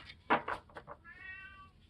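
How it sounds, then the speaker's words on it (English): A house cat meows loudly at close range, a few short cries followed by a longer drawn-out wavering meow, with no talking over it. "Oh, see, and there's my cat."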